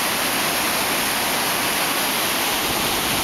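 Water rushing steadily over a small city dam, a loud, continuous broadband roar with no breaks, heard close and alone without any voices.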